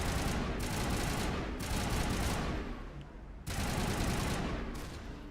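Rapid sustained gunfire bursts in the video game Mass Effect, loud and dense, with a brief lull in the middle before the firing resumes.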